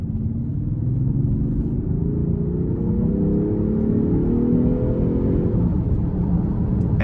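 A 2023 Range Rover Sport SE Dynamic with a twin-charged engine drives in dynamic mode, its steady low rumble rising smoothly in pitch as it accelerates, heard from inside the cabin, with no talking.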